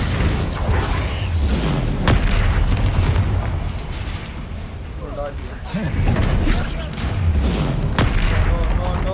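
Spell-cast explosions from Confringo and Bombarda in the Hogwarts Legacy video game give repeated deep booms and bursts amid game music and effects, with a voice calling out the spell names between blasts.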